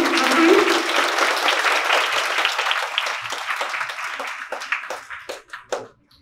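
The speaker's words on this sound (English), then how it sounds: "Give a huge clap for them." An indoor school audience at a prize distribution applauds the prize winners, loud dense clapping that gradually thins into scattered individual claps before dying away.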